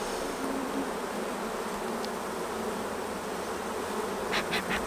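Honey bee colony buzzing steadily at close range, a dense continuous drone of many wings with no voices, a few brief sharper whirs near the end as individual bees pass the microphone.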